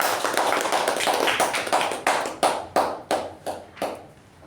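A small meeting audience at a Toastmasters club claps for an introduced speaker: quick scattered clapping that thins into a few isolated claps and fades out.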